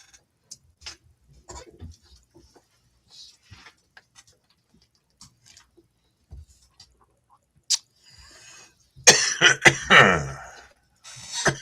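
Scattered small clicks and quiet noises, then a burst of loud, harsh coughing near the end, repeated several times in quick succession.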